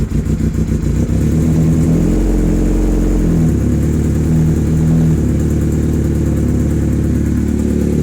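A 1985 Honda Nighthawk CB700SC motorcycle engine sputters to life and settles into a loud, steady, throbbing idle, close by and running alone.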